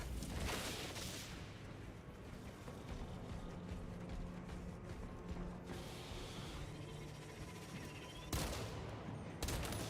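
Continuous heavy gunfire fills a Warhammer 40k: Space Marine 2 battle, with dense overlapping bursts and mechanical clatter throughout, loud and close, with a sharp burst near the end.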